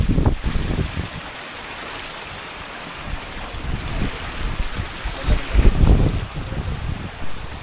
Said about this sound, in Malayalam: ഫൈനലി ഞങ്ങളിപ്പോൾ വെള്ളച്ചാട്ടത്തിലേക്ക് എത്തി